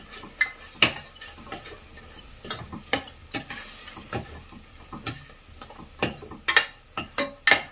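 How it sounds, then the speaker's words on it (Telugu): Spices frying in a pan for Andhra-style coriander-mint rice, a soft sizzle punctuated by frequent rhythmic scrapes and taps of a ladle stirring against the pan, close and without voices. "ఒక నిమిషం అలా ఫ్రై చేయాలి."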